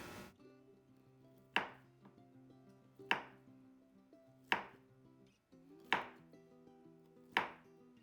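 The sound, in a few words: chopping preserved basil with a knife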